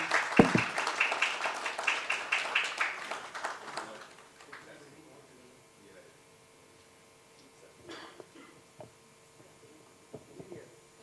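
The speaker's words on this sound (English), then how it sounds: "A big round of applause for Arjun, please." Applause from an audience at a live career talk in Bengaluru, dense clapping for about four seconds that then fades away, leaving faint room noise and a few scattered sounds.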